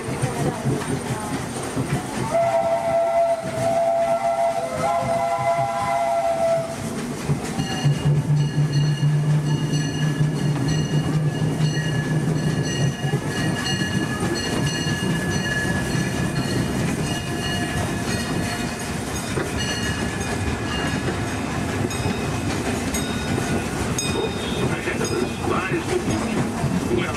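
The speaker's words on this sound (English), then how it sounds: "As we steam on through granite, one more look at the majestic Matterhorn Mountain" A Disneyland steam train runs along its track with a continuous rolling clatter and rumble, faint wheel squeals and rattles, while a narrator's voice talks over it.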